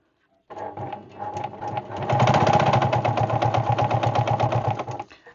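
A Baby Lock Hagane sewing machine stitches through four layers of fabric at speed. A brief whir starts it, then a loud, close, rapid mechanical chatter runs steadily for several seconds before stopping abruptly.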